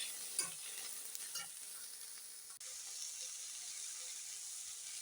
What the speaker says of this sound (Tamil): இஞ்சி பூண்டு காஞ்ச மிளகா போடுறேன். நல்லா வதக்கிக்கிறேன்.